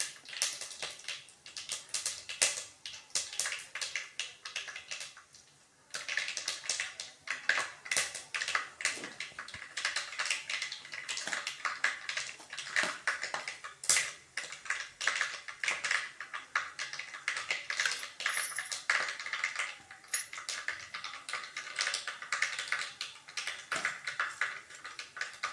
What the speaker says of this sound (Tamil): கடுகு சின்ன சீரகம் பொடிஞ்சிட்ருக்கு